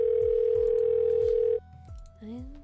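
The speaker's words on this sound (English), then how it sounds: "Slipping my phone from my pocket, I dial Detective Seal's number to update him that I've finished for the day." A phone dial tone from the video game 1st Degree sounds as a steady, loud continuous tone for about a second and a half, then stops, followed by quieter ringing-like tones over faint background music.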